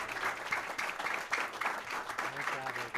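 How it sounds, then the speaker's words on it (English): An audience at a school district board meeting giving a round of applause, steady close clapping throughout with a voice speaking briefly near the end. "Give everybody another round of applause."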